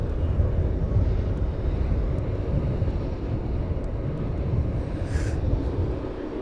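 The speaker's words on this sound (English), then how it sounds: "that's enough 777 noise for the time being" A loud, steady roar of Boeing 777 jet engines at East Midlands Airport dominates, a deep continuous rumble with a broad hiss on top, close by and unbroken.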